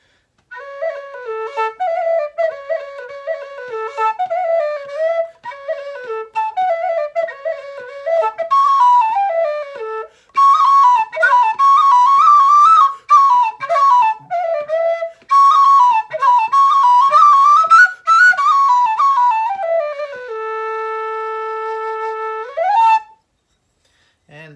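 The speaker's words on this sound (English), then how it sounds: "I'm really surprised how good a square whistle sounds." A square low A Irish whistle plays a lilting melody alone, clear and breathy, with ornamented runs and a final long held note.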